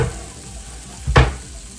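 Fresh garlic hits a pan of sautéing green beans, giving a brief burst of sizzle and stirring that swells for a moment and fades back into a low, steady frying hiss.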